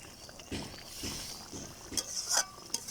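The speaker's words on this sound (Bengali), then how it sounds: "তো আমি কিছুক্ষণ পর পর একটু নেড়ে চেড়ে দিচ্ছি" Hilsa fish pieces stirred in a simmering spice masala, giving soft, intermittent scraping and stirring strokes at a steady rhythm, quiet and close, with a few brighter clinks of utensil against pan near the end.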